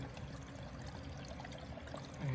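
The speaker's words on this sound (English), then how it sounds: "I've got water flow coming down the elbow" Steady rushing water flows down a kitchen sink drain elbow pipe, a continuous watery hiss with low gurgling, close and fairly quiet, no voices.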